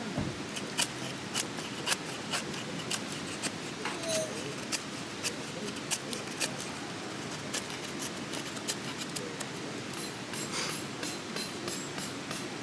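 Knife blade shaving thin curls from a wooden stick to carve a feather stick outdoors while hammock camping, a steady run of repeated scraping strokes, close and fairly loud, with no talking.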